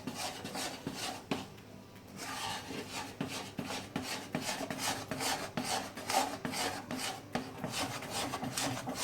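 A spoon stirs Mysore Pak mixture in a pan on a gas stove in a steady, continuous scraping and rubbing rhythm, close and moderately quiet.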